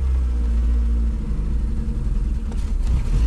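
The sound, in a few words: Volkswagen Golf 2 engine starting and revving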